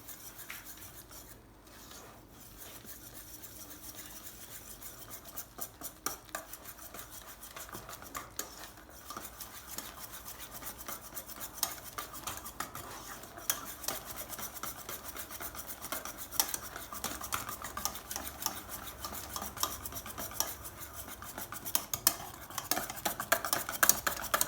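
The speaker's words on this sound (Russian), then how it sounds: "Хорошенько это все смешаем." Bread dough ingredients with flour being stirred in a bowl for homemade bread, a steady scraping, rubbing stir that runs continuously and grows slightly louder toward the end, with no talk.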